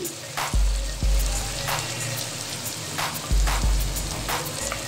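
Biryani masala frying in a pan sizzles steadily and close, with several low thumps and clatters as yogurt is added and stirred in.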